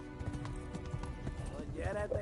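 Horse hooves clip-clopping in the medieval video game Kingdom Come: Deliverance, a steady run of hoof strikes at moderate volume beneath constant talking and game sounds.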